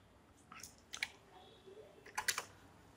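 Short burst of computer keyboard typing at a command prompt, a few quick clustered key clicks, faint and close, with no talking.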